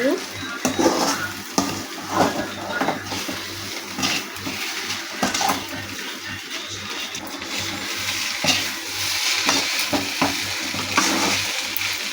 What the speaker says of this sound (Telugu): బాగా కలుపుకుంటూ ఉండాలండి, లేకపోతే అడుగంటుకోతుంది.